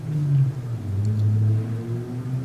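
A loud car engine rumbles outside with a deep, steady drone that swells slightly as the car passes, with no talking.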